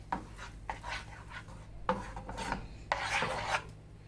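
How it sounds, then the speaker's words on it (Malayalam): A spoon rasps and rubs against a pan while sugar caramelizes on a low flame, giving steady scraping strokes in an uneven rhythm, close but quiet, with no talking. "ലോ ഫ്ലെയിമിൽ ഇളക്കി കൊടുക്കണം"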